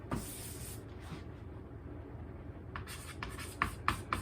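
Chalk or marker scratches and taps across a board as trigonometry is written out, short strokes coming in quick bursts near the end against a quiet room.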